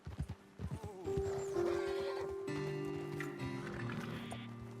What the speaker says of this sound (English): Best leave the horses back a bit